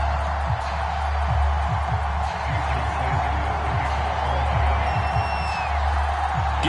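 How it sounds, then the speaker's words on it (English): A home stadium crowd in a Madden NFL video game cheers in a dense, steady roar, loud and sustained throughout, with faint whoops rising above the wash of noise. "the Dolphins starters were introduced to this home crowd. They're fired up"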